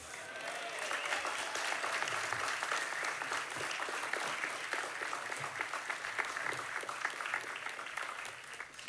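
Sustained audience applause at the Rebild festival, an outdoor summer celebration in Denmark, with dense steady clapping from a large crowd filling the whole stretch at an even, strong level.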